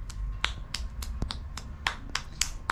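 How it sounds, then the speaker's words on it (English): Sharp, separate claps or snaps in an irregular rhythm, about ten over a few seconds, fairly close, over a low background hum, cheering a toddler's birthday at home. "Clap for Jasmine."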